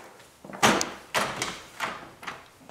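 An interior door in an Orlando hotel room closes with a series of soft knocks and a latch click, several short thuds spread over a couple of seconds, close and quiet with no talking.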